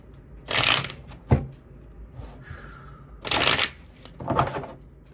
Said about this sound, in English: These cards are hard to shuffle sometimes.